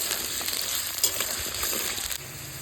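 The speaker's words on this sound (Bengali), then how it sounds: "আলুগুলো এবার লাল লাল করে ভেজে নেব।" Potatoes frying in hot oil with white cumin seeds, a dense, close crackling sizzle that stays loud and even throughout, with a faint clink partway through.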